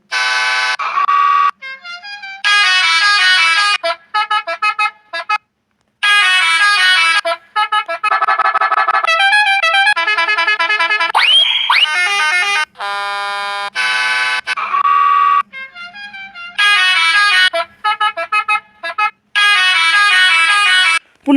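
A loud semi-truck horn blares in a long series of honks, some short toots and some sustained blasts with brief gaps, playing different tones.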